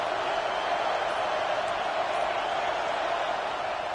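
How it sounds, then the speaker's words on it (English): Roaring stadium crowd in a college football video game, a steady loud wall of cheering and noise with no clear breaks, sustained throughout. "listen to this crowd coming through"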